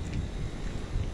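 Wind blows outdoors and buffets the microphone, giving a low rumbling gusty roar that stays fairly faint and steady throughout.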